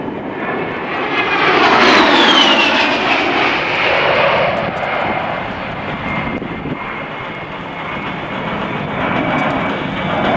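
An A-10 jet roars loudly through a jink-out maneuver at an air show, its engine whine rising and sweeping in pitch as it turns, then settling into a sustained rumbling drone.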